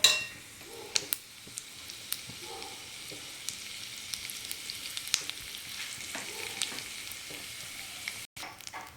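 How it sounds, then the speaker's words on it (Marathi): Cumin seeds frying in oil in a kadhai, a close, steady crackling sizzle with scattered sharp pops and a few light stirring clinks, no talk. "आता हे कढाई ठेवलेली आहे याच्यामध्ये थोडं तेल टाकू आपण जिरं टाकायचं"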